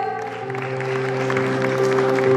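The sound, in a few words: parents applauding at school prize ceremony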